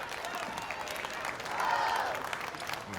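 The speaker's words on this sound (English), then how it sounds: "Look at this crowd going crazy for their girl." A crowd applauds and cheers at a World Poker Tour final table, steady clapping with whoops rising and swelling toward the middle, heard from a distance and fairly faint.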